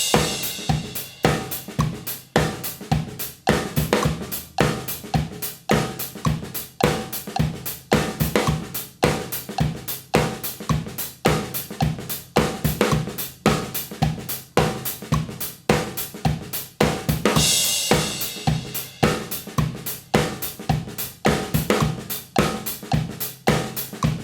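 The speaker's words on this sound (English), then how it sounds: "The first groove is based around a basic dance beat" A basic dance beat played on a drum kit, with a steady four-on-the-floor kick and accented hi-hats in a tight, repeating groove that runs unbroken for over twenty seconds, with a brief cymbal wash partway through.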